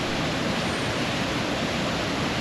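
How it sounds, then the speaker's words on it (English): Water rushing down the rockwork of Grizzly Peak at Disneyland Resort, a dense, steady roar of falling water that stays even and close throughout with no voices. "This whole mountain is just one big waterfall."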